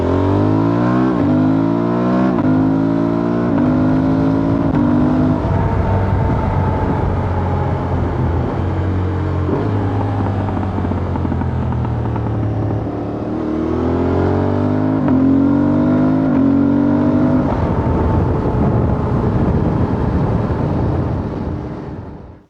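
Motorcycle engine picked up by a small clip-on mic stuffed deep in a rider's front pocket, revving and shifting through gears in repeated rising pulls, loud and continuous with a slight lull midway before climbing again.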